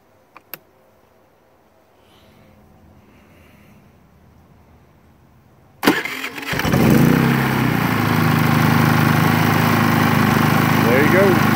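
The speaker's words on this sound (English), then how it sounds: "let me reach over here and turn it on and hit the starter, and you can see it work" Predator 3500 generator with automatic choke system: after quiet clicks and faint sounds, the engine cranks and fires at about six seconds, then settles into a loud, steady close-up running drone.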